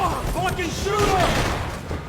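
Gunfire crackles through a Max Payne 3 cutscene, rapid shots layered with a dense noisy wash, while voices and music run underneath at a steady, loud level.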